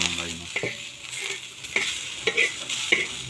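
Green chillies roasting in oil in a pan for a spicy thecha, with a soft sizzle and a few sharp scraping stirs at irregular moments, close and moderately quiet.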